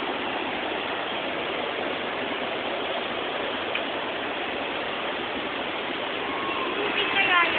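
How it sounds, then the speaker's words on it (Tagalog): Water at Kawasan Falls pours and rushes in a steady, dense hiss that stays even throughout, with no talk over it. "Tubig kaya yan."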